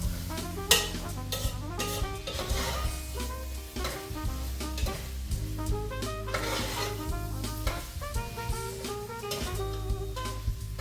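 Hamburger meat for nachos sizzles steadily in a frying pan while a utensil stirs and scrapes it, quiet and close under background music.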